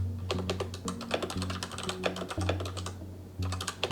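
Rapid, uneven keystrokes clatter on the keyboard of a retro dedicated writing computer, close and crisp, with short pauses between bursts over a steady low electrical hum.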